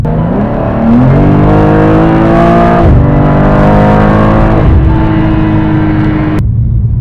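A BMW M2 G87 LCI pulls hard through the gears, its engine note climbing in strong rising sweeps with brief dips at each upshift, loud and close, with no voices over it.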